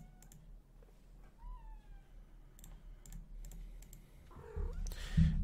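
A pet cat near a computer gives a soft rising meow, faint against quiet background noise and light clicking, with a louder rustle near the end.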